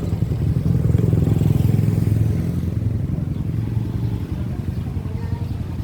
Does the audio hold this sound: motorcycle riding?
yes